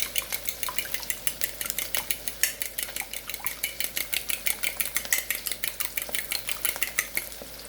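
A utensil scrapes and clinks rhythmically against a pan as egg is stirred into a bacon fried rice mixture, a quick steady series of metallic strokes over a low background hum.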